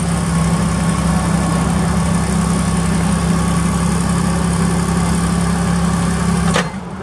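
A 2002 Hyster H90XMS pneumatic-tire forklift with a rebuilt GM 4.3 liter LP gas engine runs with a steady, loud, close drone and a low hum. It cuts off abruptly near the end.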